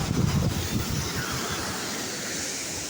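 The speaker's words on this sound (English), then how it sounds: "The beautiful, incredible Ogden Canyon Falls." Steady broadband rushing roar of a waterfall at Ogden Canyon Falls in Utah, a dense continuous wash of falling water, loud and unbroken, with some low rumble at the start and no voices.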